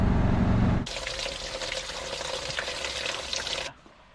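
Dirty, sewage-like water flows in a steady, fairly close rush that lasts about three seconds, beginning after a low rumbling start and cutting off abruptly.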